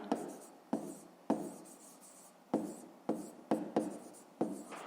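Pen or pencil strokes on paper while writing out a fifth-grade math exercise solution, a series of short scratchy bursts with pauses between them, close and fairly quiet with no talking.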